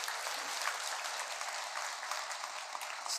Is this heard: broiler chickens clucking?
no